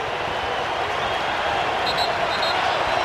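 A college basketball crowd in a dome arena roaring during a Duke game, a dense sustained wash of cheering and applause that swells slightly toward the end, loud and continuous.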